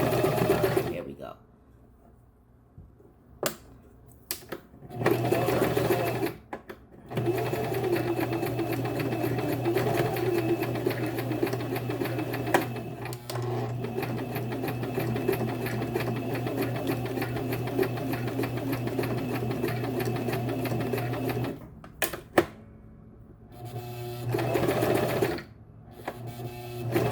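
A sewing machine stitches wig tracks in long, steady runs close by, stopping and starting several times with short pauses between bursts of rapid mechanical whirring.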